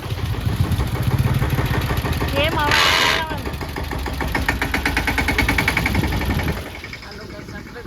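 A farm tractor engine runs steadily with a low, throbbing mid-pitched idle, close by, under casual talk, with a brief louder burst midway and the engine fading slightly near the end.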